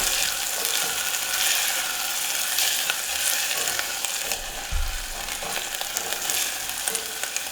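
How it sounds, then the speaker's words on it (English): Onions fry in a pan with a steady, fairly close crackling sizzle, broken by an occasional low thump and stirring sounds. "turn that heat down a little bit on these onions"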